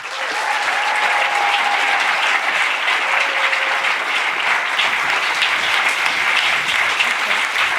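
A large audience at the FIFDH human rights film festival closing ceremony applauds its three festival directors: dense, sustained clapping, loud and even throughout, with no talking.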